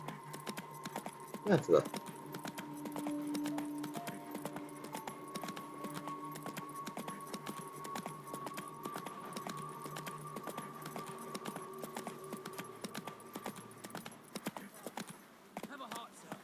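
Horse hooves clip-clopping in The Witcher 3, a steady, fairly quiet rhythmic patter of hoofbeats with light jingling tack carrying on throughout, while someone speaks briefly near the start.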